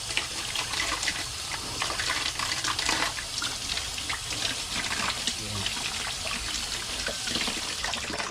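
Water runs steadily from a tap as something is washed beneath it indoors, a continuous close splashing and trickling with faint voice sounds mixed in.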